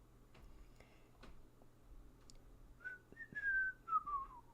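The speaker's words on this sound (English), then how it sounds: "Why am I whistling?" A single person whistles a short rising-then-falling tune, clear and close, over quiet room noise with a few faint ticks, no talking.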